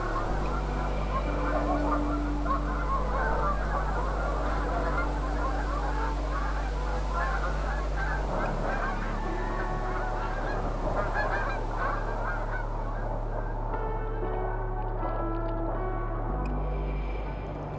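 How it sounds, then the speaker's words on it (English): A flock of Canada geese honks repeatedly as the birds take off and fly away from a windswept coastal reserve, their calls overlapping against a constant low roar of wind. "These Canada geese decided to move on."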